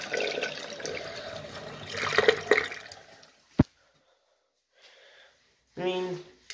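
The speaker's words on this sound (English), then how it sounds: "Alright, here's a flush." Flush of a VFT Frontline elongated toilet: a rushing swirl of water that builds, then a sharp click and quiet, followed by a brief refill gurgle near the end.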